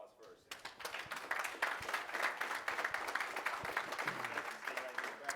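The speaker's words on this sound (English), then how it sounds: "Give them a round of applause first." Applause from an audience at a presentation on life insurance and annuities, fairly faint and dense after a brief quiet start, with talk over the clapping.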